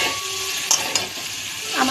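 Spice paste for a fish curry fries in a pan with a bright, dense sizzle and a couple of short scraping stirs, heard close and continuous.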